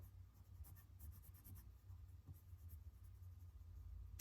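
A pencil scratches steadily across paper as a drawing is sketched, close and quiet, with soft continuous strokes and no talking.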